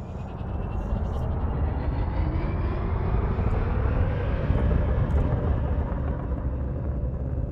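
Viper Mk IV spaceship in the game Elite: Dangerous accelerating from a standing start outside a port, a steady loud engine roar that swells and builds smoothly, with no voices.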